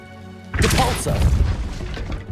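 Depulso force spell cast in the Hogwarts Legacy video game, a sudden loud whooshing blast with a booming impact thud, followed by a lingering rumbling tail over a soft steady musical hum.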